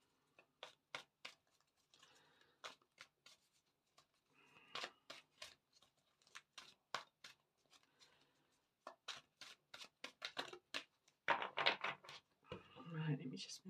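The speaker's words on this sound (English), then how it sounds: "Let me just give these a good shuffle." A deck of cards being shuffled during a card reading, with quiet, close, irregular snapping riffles and taps in short bursts, spread across the stretch with brief pauses between them.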